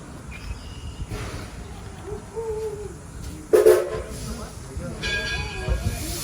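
An Edison passenger train pulls away from the station, a steady low rumble with a brief loud horn or bell burst midway and faint hiss.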